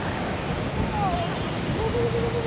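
Steady wind rushing across the microphone on a sunny seaside embankment in Da Nang, Vietnam, with a faint wash of surf underneath and no clear talking.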